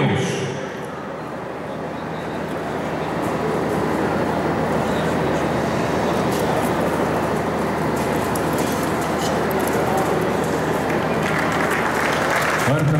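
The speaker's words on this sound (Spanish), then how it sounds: "Fuertes los aplausos." Sustained audience applause at a livestock champions' parade at Expo Santa Rita, honoring a Quarter Horse reserve grand champion, rising and holding steady throughout with a low background hum and faint voices mixed in.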